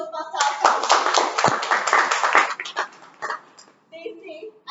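Applause from a Toastmasters meeting audience after an evaluation, a burst of clapping that runs about three seconds, then breaks into sparse claps with a voice speaking as it dies away.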